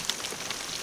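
Heavy rain pattering steadily on a tent or tarp at a wild camp in Scotland, a dense close patter with a few sharper drops, no voices.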